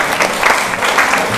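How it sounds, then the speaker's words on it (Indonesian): Classroom applause for a student group, a steady dense patter of many hands clapping together at close range with no talk over it. "beri aplaus dulu untuk kelompok 2"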